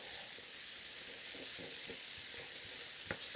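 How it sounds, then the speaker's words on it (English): Tomato paste sizzles steadily in the bottom of a pan for beef stew, with soft scraping and stirring strokes over the continuous frying hiss. "I can drop the tomato paste right on the bottom of the pan and start that cooking process"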